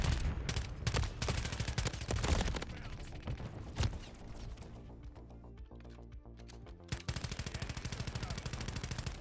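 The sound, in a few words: AMR9 gunfire in the Call of Duty video game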